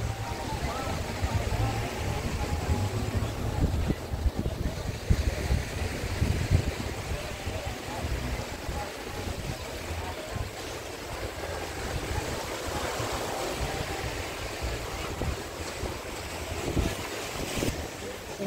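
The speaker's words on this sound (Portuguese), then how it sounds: "O mar está invadindo aqui." Sea surf breaking and washing over the shore at Itamaracá beach in Pernambuco, a continuous loud rush mixed with heavy wind buffeting the microphone.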